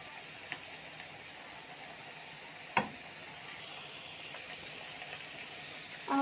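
Sauce sizzles quietly in a pan while it is stirred, with a soft continuous hiss, a sharp spoon clack near the middle and a few lighter scrapes.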